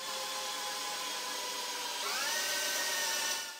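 DeWalt DCD999 cordless hammer drill driving a 10 x 500 mm screw into wood, a steady, loud motor whine that rises in pitch partway through and then tapers off, with no voices.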